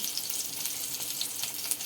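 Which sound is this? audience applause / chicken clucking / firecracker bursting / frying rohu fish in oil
frying rohu fish in oil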